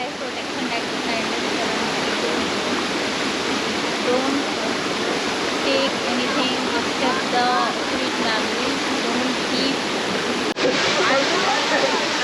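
Netravali waterfall in South Goa, a steady broadband roar of falling water filling the whole clip at constant loudness, with faint chatter beneath.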